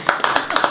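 A handful of sharp hand claps from a studio audience, quick and uneven, over a short moment with a faint murmur of voices beneath.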